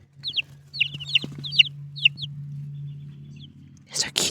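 Baby chickens on a backyard farm peep in a quick series of about six sharp, high chirps, close by and over a steady low hum, ending in a brief burst of rustling noise.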